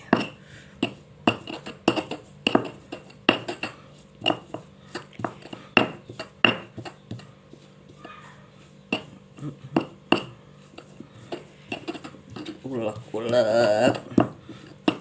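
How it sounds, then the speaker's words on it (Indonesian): Fishing bait for wader fish is pounded and ground with a pestle in a stone mortar, giving sharp, irregular knocks and clinks close up, a voice speaking at times, and a brief scraping flurry near the end. "Caranya itu sangat mudah, cuma diulek-ulek ini sampai halus."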